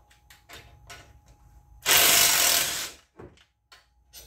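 A ratchet with a 10 mm bit works on a bracket on an S550 Mustang: a brief burst of dense clicking lasting about a second, set between scattered close metallic taps and handling clicks.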